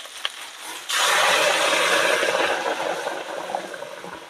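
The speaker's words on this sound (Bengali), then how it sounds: "এবারে গরম জলটা দিয়ে দেব।" Hot water poured into a pan of potato and cauliflower curry in a village kitchen, a steady splashing rush that starts abruptly and runs for several seconds, close and fairly loud.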